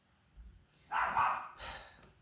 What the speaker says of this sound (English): my dog is out here barking